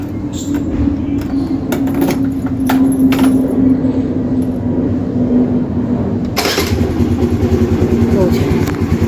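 An Activa scooter engine cranks and catches, then settles into a steady buzzing idle that runs up close and loud, with a sharp burst partway through and people talking over it.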